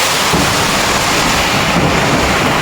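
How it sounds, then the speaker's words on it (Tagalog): Loud, relentless roar of typhoon wind with heavy rain lashing down, a dense wash of noise with no pauses. "sobrang lakas po ng hangin wala papalapit pa lang po ang ano ang bagyo"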